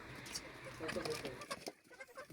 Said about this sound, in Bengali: তিন চারটে মুরগি আছে দেশি ফারামি ও সোনালি মুরগি আছে